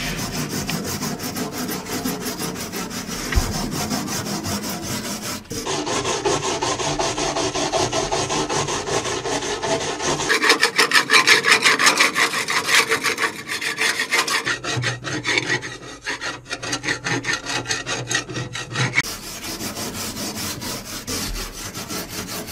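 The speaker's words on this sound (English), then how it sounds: "I think to start with, I'll just wire brush it by hand." A hand wire brush scrubs light rust off the steel hull of a narrowboat in continuous rapid back-and-forth strokes, loud and close, with brief shifts in texture as the brushing changes position.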